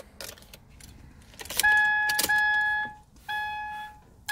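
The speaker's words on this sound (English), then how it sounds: "I'm gonna turn my ignition on." Keys jangle and a car's ignition is switched on, followed by a series of electronic chime beeps and a soft click, heard close up in a quiet car interior.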